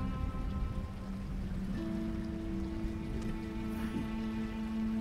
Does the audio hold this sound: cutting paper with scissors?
no